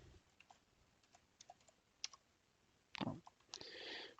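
Soft, scattered clicks of keys tapped on a computer keyboard, sparse and quiet at first, then a firmer cluster of presses near the end, including a Ctrl+Enter.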